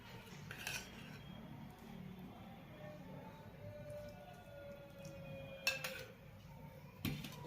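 Methi mathri dough ingredients being mixed by hand with ghee in a metal bowl: quiet, faint rustling and rubbing with a couple of brief utensil clinks, close but low in level.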